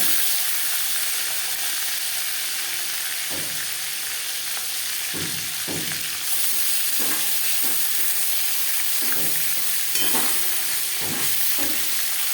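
Katla fish frying in hot oil in a wok, a steady bright sizzle running throughout with occasional stirring scrapes and spatters, close and fairly loud with no talking.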